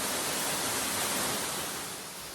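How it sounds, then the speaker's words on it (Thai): Saeng Chan waterfall in northeastern Thailand flowing, a dense, steady roar of rushing water, close and loud throughout. "ตอนนี้เราก็อยู่กันที่น้ำตกแสงจันทร์กันแล้วนะครับนี่น้ำตกสวยมาก"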